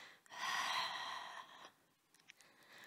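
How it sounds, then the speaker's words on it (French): One long, deep breath during a Pilates session, a breathy airy exhale held for about a second and a half, then quiet with a few faint soft sniffs, close and fairly quiet. "Encore 3 longues respirations"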